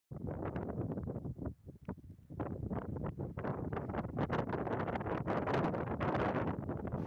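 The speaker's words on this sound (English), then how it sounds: "it's very windy today too" Strong wind blows across a white sand desert near Corralejo, buffeting the microphone in loud, roaring gusts with brief lulls near the start, then building to a sustained rush.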